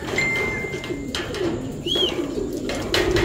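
A pigeon coos close by in a few soft, low calls, with a faint high whistle and light background noise.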